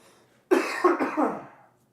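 A single close, harsh cough from one person, rough and chesty with a few quick bursts that fade out over about a second.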